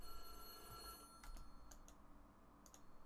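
A telephone rings in the horror game White Day: A Labyrinth Named School, a few faint, spaced bell-like trills over a quiet, low hum, with no talk.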